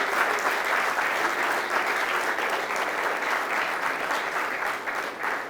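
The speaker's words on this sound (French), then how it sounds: "Applaudissez pour vous-même." Students at a Kinshasa university break into loud, sustained applause, a dense crowd of clapping that holds steady for several seconds without speech.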